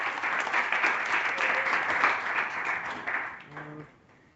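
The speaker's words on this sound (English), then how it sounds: "let's give Deanna another round of applause." A public workshop audience breaks into applause for a speaker, a dense, steady patter of many hands clapping in a room that fades away after a few seconds, with a brief voice at the close.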